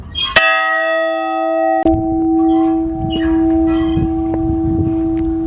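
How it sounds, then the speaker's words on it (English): A half-size replica of the Liberty Bell is struck once, loud and close, leaving a long sustained ring with clear overtones, then a second strike and a lingering hum over faint background noise. "We're gonna ring the Liberty Bell."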